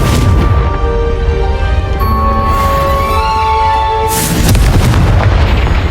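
A Confringo spell explosion in the Hogwarts Legacy game, a loud booming blast that rings out over a sustained tonal musical backdrop and swells again near the end.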